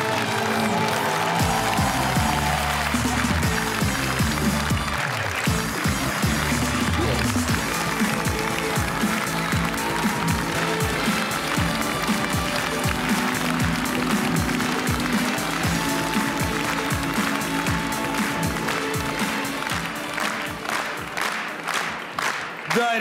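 A studio audience at a Comedy Club taping applauds and cheers throughout, dense sustained clapping that thins toward the end, with music and occasional voices in the mix.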